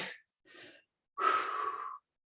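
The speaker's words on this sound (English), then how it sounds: "I'm breathing." Heavy breathing during an abs and arms stretching workout: two short breaths followed by a longer, louder exhale, close and clear with no talk.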